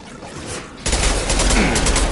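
Loud gunfire erupts abruptly after a quieter moment in the sci-fi shooter Mass Effect 2, becoming a steady stream of rapid overlapping shots during a battle with hostile mechs at a colony.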